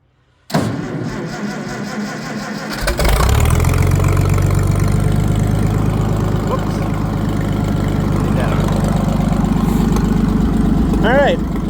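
Farmall 560 tractor engine cranks for a moment, then catches and settles into a loud, steady low idle that keeps running, with some voices talking over it.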